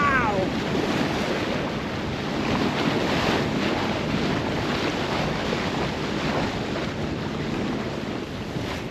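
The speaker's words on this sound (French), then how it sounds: "Et voilà le mascaret qui embarque. Ici, un petit clapotis tout doux." A tidal bore rolls in as a broad, continuous wash of surf and gentle lapping water, steady and fairly loud, mixed with wind buffeting the microphone.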